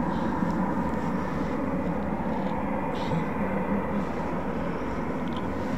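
RAF Eurofighter Typhoon FGR4 jet flying in the circuit at RAF Coningsby, a steady broadband roar holding level and fairly loud throughout, with no distinct passes or breaks.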